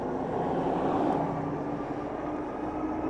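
A dual-motor S8 e-bike runs at throttle-only top speed on one motor, a steady close hum blended with rushing wind noise that holds constant throughout.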